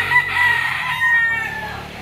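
Bloodline roosters at the Lipa auction market crow loudly and close by in one drawn-out call that breaks into a second rising phrase, with clucking fowl behind it.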